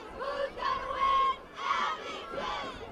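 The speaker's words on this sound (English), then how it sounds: "Abington Midget cheerleaders keeping the crowd energized here in the Super Bowl 2013." Youth cheerleaders for the Abington Midgets chant and shout at a 2013 youth football Super Bowl, bursts of high group cheering in rhythmic phrases with short pauses between, fairly clear over a quiet background.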